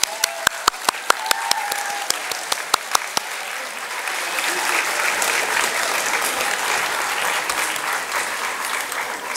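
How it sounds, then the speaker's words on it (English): A graduation ceremony audience at University Campus Doncaster in 2024 applauds their families, starting with a few sharp individual claps that quickly swell into loud, sustained applause from a large crowd filling the hall. "Please turn to your family and give them a round of applause as well."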